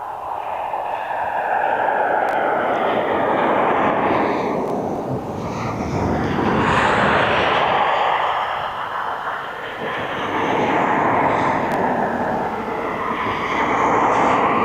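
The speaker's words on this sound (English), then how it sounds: "we have got that Jet 2 737 which is inbound from Alicante on finals now" A Jet2 Boeing 737 inbound from Alicante on final approach to East Midlands Airport gives a loud, continuous jet roar that swells and fades as it nears, mixed with wind noise.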